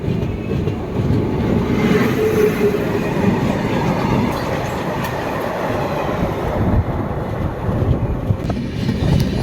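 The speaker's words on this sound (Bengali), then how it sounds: "বেশ অনেকটা সময়ের পর ছেড়ে দিচ্ছে আমাদের ট্রেন" A passenger train from Kolkata to New Jalpaiguri pulls away with a close, continuous rumble and a faint clatter of wheels, with no voices.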